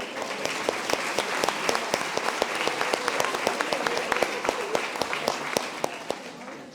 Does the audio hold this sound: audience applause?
yes